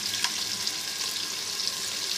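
Chopped onions dropped into very hot ghee for korma biryani, a steady close sizzle and bubbling frying hiss, soft and continuous with no talk.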